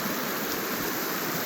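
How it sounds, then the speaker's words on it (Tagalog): River water rushing through a canyon at the Whitewater Preserve in California, a steady, dense broadband wash that is loud and close and continues without a break. "dito na naman tayo sa ilog"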